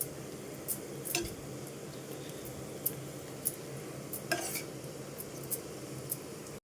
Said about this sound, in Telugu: మధ్య మధ్య కలుపుతూ నిదానంగా వేయించుకోవాలి